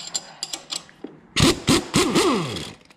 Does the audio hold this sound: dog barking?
no